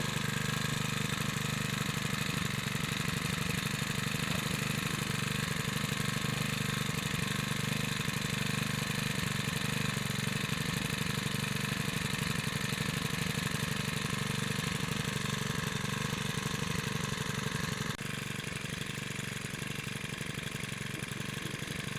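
A Makita EBH252U four-stroke petrol brushcutter idles while warming up, a steady close putter that runs unbroken for a long stretch and softens slightly near the end, with no voices.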